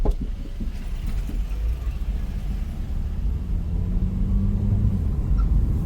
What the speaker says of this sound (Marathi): खड्ड्यामध्ये गेल्यावर गाडीच्या लेफ्ट साईडला राईटला जास्त साऊंड करते गाडी